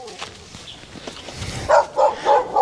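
A dog on XiaoLiuQiu island gives three short, loud barks close by toward the end, after quieter background noise.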